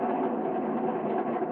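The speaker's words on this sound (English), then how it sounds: "There's the train. That's the noise that you're going to hear every now and again." A train passes at a steady distance, a continuous broad rumble and rolling roar holding even in loudness throughout, with no voices.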